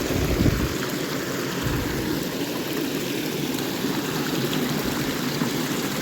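Floodwater flows down from a hill into a farm, making a continuous rushing, splashing wash that stays steady and moderately loud throughout with no voices.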